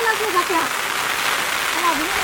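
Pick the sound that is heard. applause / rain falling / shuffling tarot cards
rain falling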